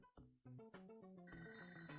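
A telephone ringing in the 1990s video game Toejam & Earl, heard as a quick, bright chiptune-style electronic trill of stepped beeping tones, continuous and fairly faint.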